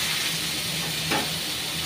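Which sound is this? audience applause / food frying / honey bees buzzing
food frying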